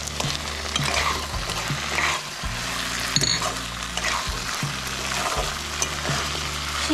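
Ground spice paste fries in oil with potatoes and a fish head for a banana flower curry, a continuous close sizzle under repeated spatula scrapes and knocks against the pan, no talking.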